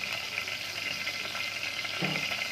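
Garlic goes into hot melted ghee and sizzles with a constant, close frying hiss, with a small stir or clatter near the end and no speech.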